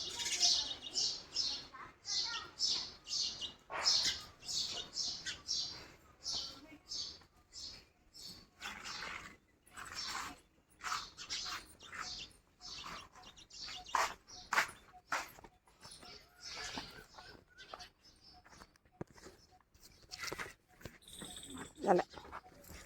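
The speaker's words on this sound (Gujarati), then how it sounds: "ચકલીઓ અત્યારમાં જો ચી ચી કરે છે" Sparrows at a rural Gujarati homestead chirp busily and almost without pause, with a rapid, dense chatter of high tweets over a long stretch and people talking softly underneath.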